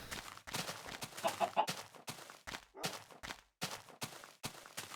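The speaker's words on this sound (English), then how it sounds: "Chickens." Chickens in the Minecraft video game cluck in short, repeated bursts separated by brief gaps, fairly quiet and close, with no talking over them.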